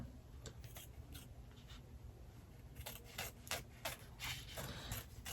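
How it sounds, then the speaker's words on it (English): Applique scissors snip repeatedly through fabric at close range, a series of short crisp cuts that grow more frequent toward the end, with no talking. "I'm going to go ahead and cut around with my applique scissors."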